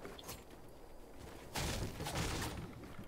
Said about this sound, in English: I hear gunshots and footsteps